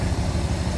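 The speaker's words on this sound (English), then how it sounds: "Nice smooth running" A 1965 Mercury Monterey Marauder two-door hardtop with a V8 idles smoothly and steadily, a close, continuous low engine rumble with no talk.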